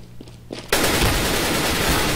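Shotgun fire in the game CS:GO on the map Mirage: a loud, sharp blast after a brief quiet stretch, followed by a dense, sustained wash of gunfire and noise that carries on to the end.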